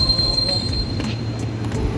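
A train at Tebet station, a loud rumble of wheels on rail with a thin high metallic squeal of wheels running across the whole short stretch.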